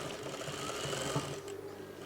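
A sewing machine stitches a velvet shrug with a steady, close mechanical whirr and rapid needle chatter, pausing briefly near the end before resuming.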